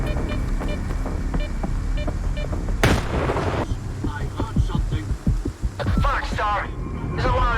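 Explosions and gunfire crack through a Stalker 2 battle, with a sharp blast followed by scattered loud shots and impacts over a constant dense rumble of in-game ambience.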